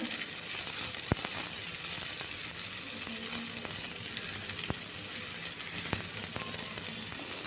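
Chopped garlic and onion fry in hot oil for a red amaranth and potato curry, a constant soft sizzle with a few faint clinks of a utensil against the pan, no voices.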